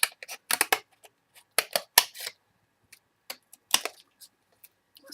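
Scissors snip through glitter paper in a quick run of crisp, close cuts, then a few isolated snips spaced farther apart, with no voices.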